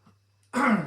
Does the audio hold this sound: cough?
yes